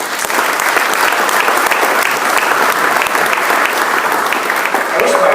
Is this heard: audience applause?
yes